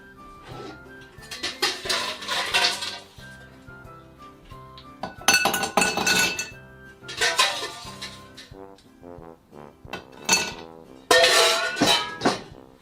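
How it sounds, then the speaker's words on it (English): Ice cubes poured into a rocks glass for a cocktail, several bursts of bright clinking and rattling cubes, close and loud, with short pauses between pours. "get our ice and pour it straight into a rocks glass"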